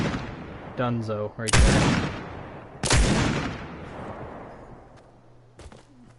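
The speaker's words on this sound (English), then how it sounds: "Yeah, it's basically a giant revolver." A giant scoped revolver in Fortnite Creative fires two loud, sharp shots with long booming tails, about a second and a half apart. A brief voice comes before them.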